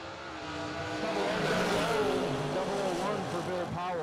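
Ford Mustang and Pontiac Firebird drag racing at a bracket event, loud sustained engine roar climbing in pitch as the cars accelerate, with a race announcer talking over it.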